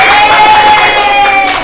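Students in a classroom clapping together, a loud, dense burst of applause, with crowd voices mixed in underneath.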